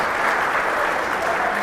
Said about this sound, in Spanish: un aplauso para Alejo